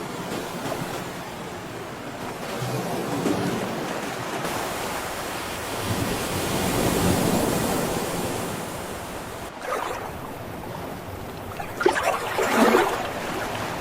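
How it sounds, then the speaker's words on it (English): Ocean waves roll and break in a steady wash of surf, with wind noise and a couple of louder surges near the end. "Ahead lies the vast ocean."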